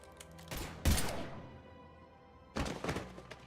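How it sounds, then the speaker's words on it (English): Gunfire in the Mass Effect 3 video game: two loud, heavy bursts of shots roughly two seconds apart, the first a sharp punchy blast and the second a rattling volley, with quieter game ambience between them. "Now open fire!"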